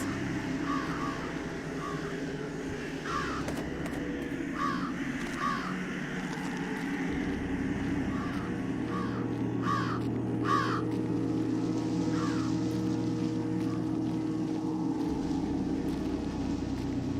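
Crows in the video game Jenny LeClue give harsh repeated caws in loose clusters, moderately near, over a steady low rumbling background with no speech.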